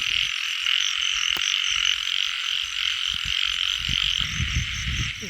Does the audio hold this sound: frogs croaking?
yes